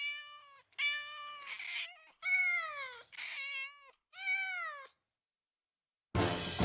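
A cat meows several times in a row, the calls close, clear and drawn out with short gaps between them, heard from an English-dubbed anime episode. A brief burst of noise follows after a pause.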